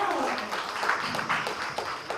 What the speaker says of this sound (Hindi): तालियां हो जाए सर के लिए